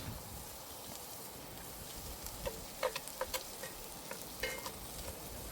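Peaches tossed into BBQ chicken sizzling in a cast iron pan: a steady, soft frying hiss with scattered light clicks and taps from stirring, no talking.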